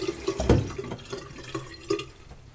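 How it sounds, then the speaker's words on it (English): Cool tap water runs and splashes briefly as a washcloth is wetted at a sink, with a few short wet sloshes and drips close by, quiet and without talk. "wet your washcloth with cool water"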